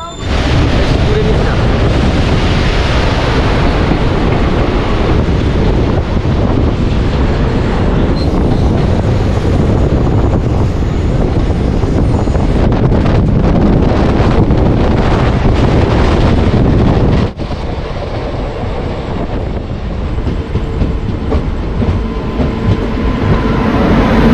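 The Teesta Torsha Express passenger train runs at speed on the Sealdah–New Jalpaiguri line, giving a loud, steady roar of wheels and carriage rumble with heavy wind buffeting the microphone and a brief drop in level near the end.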